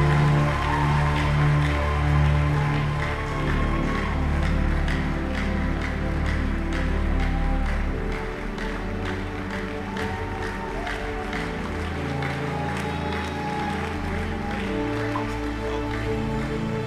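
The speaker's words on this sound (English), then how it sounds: "Give Jesus a big hand clap." A church congregation claps hands in quick, rhythmic bursts over loud sustained music, the clapping continuing steadily throughout.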